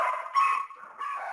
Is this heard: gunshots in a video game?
no